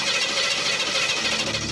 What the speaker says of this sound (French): C'est parti pour de l'alcool dans un moteur à carburateur